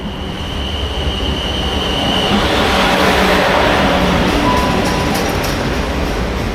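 A train rumbles loudly nearby at an Isle of Wight station with a thin high squeal fading early on and faint rattling throughout.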